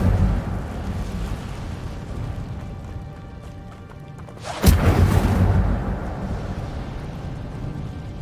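An Incendio fire spell cast in Hogwarts Legacy bursts out as a sudden loud whoosh after a quieter stretch, then decays into a roaring rumble over the background ambience.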